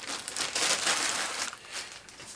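An oversized plastic bag holding Bowers & Wilkins 706 S3 bookshelf speaker grills crinkles and rustles continuously up close while it is being unboxed, with no talking.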